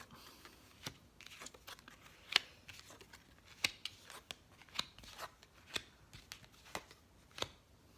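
Tarot-style cards being turned over one by one for a reading, a series of soft, sharp flicks and slaps of card on a surface, irregularly spaced, close and quiet with no talk.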